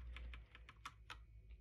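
Fast, steady typing on a Redragon TKL mechanical gaming keyboard with red switches, a run of about a dozen crisp, close key clicks over a low hum, with no talking.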